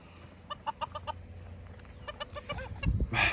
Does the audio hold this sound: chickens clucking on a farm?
yes